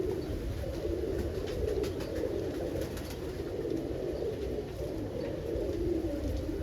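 Pigeons in a roller pigeon loft coo softly and continuously, several low, rolling calls overlapping nearby over a steady background hum, with no speech.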